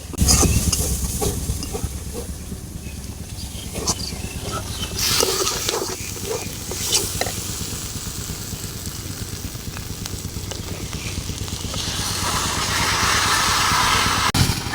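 Vegetables tossed into a pan of fried spice paste for a village-style curry set off a loud, steady broadband sizzle with occasional sharper bursts and stirring clatter.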